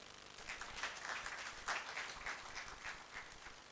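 An audience at a youth agribusiness challenge event in Uganda claps. The applause is faint and distant, a soft patter that rises and falls in small bursts for a few seconds.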